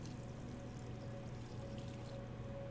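Water pours steadily from a watering can onto houseplants in the video game Life is Strange: Double Exposure, a faint, even trickle with a soft steady hum beneath it.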